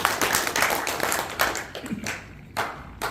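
Scattered hand claps ring out in a lively room at an education association officers' workshop in Incheon, South Korea, a short burst of applause that comes in uneven bursts rather than a steady roar.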